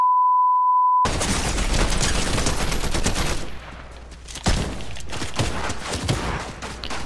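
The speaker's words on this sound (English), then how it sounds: "I'm getting shot at." Video game gunfire follows a steady tone: dense, rapid bursts of shots ring out loud, thin briefly, then return with further sharp volleys and booms.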